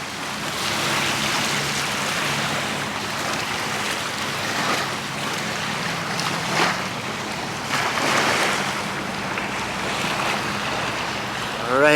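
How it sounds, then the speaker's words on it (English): Steady, rushing wind gusts across a lakeside boat launch where trucks load boats, a continuous broadband roar that swells and eases slightly, with microphone buffeting. "It's a little bit windy down here, so you might hear a little bit of breeze in your ears"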